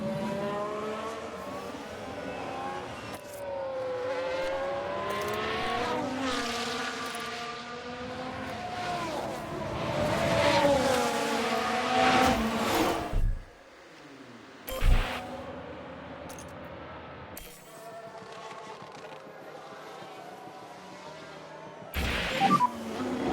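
Race cars in the F1 Manager 22 game scream past at high revs during a 1991 Ferrari race. The engines whine loudly and continuously, then cut abruptly with sharp impact thuds as a car crashes.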